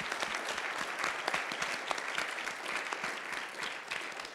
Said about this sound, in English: please give another round of applause for our amazing speakers in the morning and in the afternoon